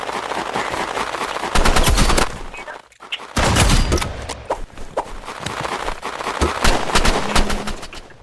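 Rapid automatic gunfire bursts in a French-language shooter video game, loud sustained volleys with a brief gap near the middle, then continuing scattered shots and bursts.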